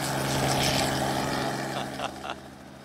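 Penguin Air news helicopter over Phoenix in flight, a steady droning engine and rotor hum heard from inside the cabin, fairly even and moderately loud throughout.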